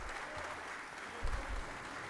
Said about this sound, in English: That is an applause.